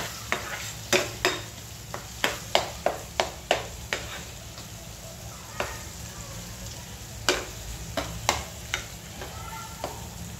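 Homemade red chili masala sautéing in a pan for drumstick curry, a steady low sizzle broken by repeated sharp clicks and scrapes of a spoon stirring against the pan, close and clear with no talking.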